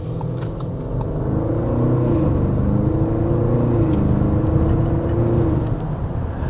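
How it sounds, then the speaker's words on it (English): A 2026 Audi SQ8 SUV engine idles with a deep exhaust rumble, then revs up in a steady, loud surge before easing back down, with no voices. "let's give you a little bit of an exhaust note"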